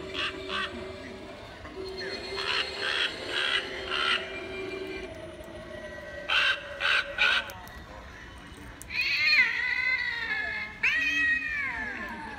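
An animated skeleton cat Halloween prop in a craft store lets out loud electronic meows and yowls in bursts, with a separate croaking caw-like sound earlier, set against store background noise.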